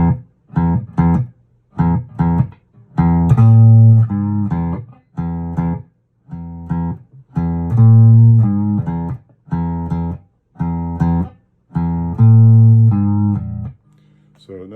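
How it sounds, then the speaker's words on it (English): An electric guitar plays a short blues run, plucked notes in quick phrased groups with brief pauses, clear and close, with no talking. "So that's just a little blues run"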